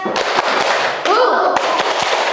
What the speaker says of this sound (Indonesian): Biar tambah semangat kita tepuk semangat dulu, ya.